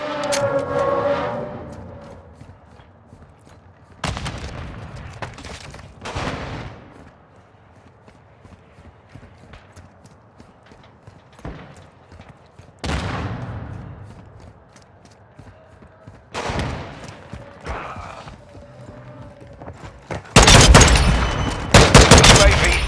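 Gunfire in Call of Duty: Modern Warfare II comes in scattered bursts of shots, some distant and some close, with footsteps between them and a loud heavy volley at the end.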